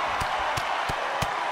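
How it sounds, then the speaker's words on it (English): Crowd roar at a video game wrestling pay-per-view event, a loud, steady wash of cheering with sharp thuds landing about every third of a second. "The sound of this crowd is deafening"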